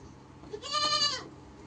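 A goat lets out one loud, strained bleat lasting about half a second after an injection on a goat farm, close by and otherwise quiet.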